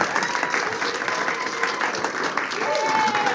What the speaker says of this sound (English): Let's hear applause for that.